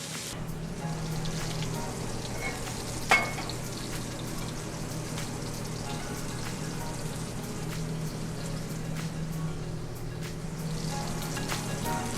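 Pork belly browning in a pan for a honey-glazed dish, a steady low sizzle and crackle of fat running throughout, with one brief sharper clink partway through.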